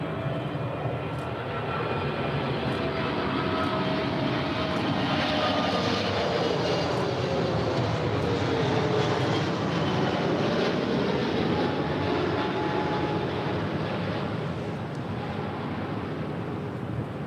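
An Air Canada airliner takes off from runway 24 Left at LAX. A broad, loud jet roar holds steady for many seconds, swelling slightly toward the middle before easing.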